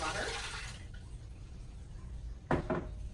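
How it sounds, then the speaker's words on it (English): Water poured into an Instant Pot over a 3 to 4 pound corned beef brisket, a brief splashing burst at the start, then quiet room tone and a couple of short clatters near the end. "And then we're going to add 4 cups of water"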